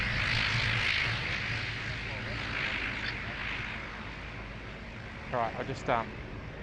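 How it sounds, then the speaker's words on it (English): A De Havilland Dash 8 propeller aircraft passes loudly at Sydney Airport, its engine roar strongest at the start and then slowly fading, while someone speaks briefly near the end. "That Dash 8 was very loud."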